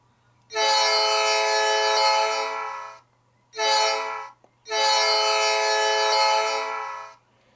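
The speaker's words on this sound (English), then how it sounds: "you can hear the horn" Three sustained blasts of an Athearn Genesis L&N GP38-2 model locomotive horn, long, short, then long, bright and harmonic, close up against a faint low hum.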